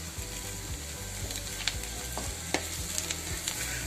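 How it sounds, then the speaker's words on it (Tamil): Ginger garlic paste sizzles with well-sautéed onions in a pan for a home-style chicken fry, a steady hiss with a few sharp clicks of stirring, fairly close and continuous. "இப்போ இந்த ஸ்டேஜில் வெங்காயம் நல்லா வதங்கிருச்சு. கொஞ்சம் இஞ்சி பூண்டு பேஸ்ட் சேர்த்துக்கலாம்."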